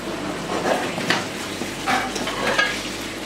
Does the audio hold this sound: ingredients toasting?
yes